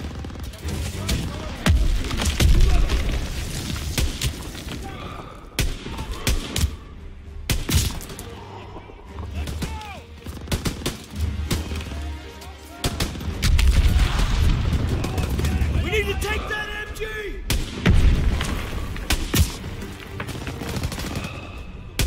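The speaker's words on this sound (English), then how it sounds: "Gunfire! We must be near our guys." Heavy gunfire and artillery in the Call of Duty WW2 video game, with bursts of rifle and machine-gun fire and deep booms crackling loudly throughout, while soldiers' voices are heard now and then in the mix.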